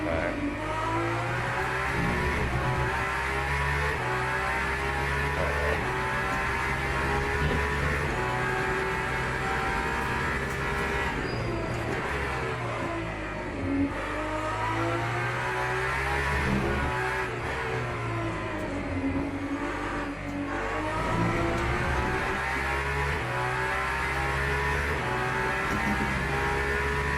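A hypercar in the Le Mans Ultimate racing game at Sebring drives on with a loud, steady engine roar that shifts pitch as it revs up and down through the gears. The sound holds nearly constant throughout, with no talk over it.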